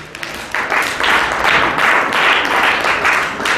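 A congregation at a church seminar applauds the Lord with steady, fairly loud rhythmic clapping that swells after a brief quiet start and continues to the end.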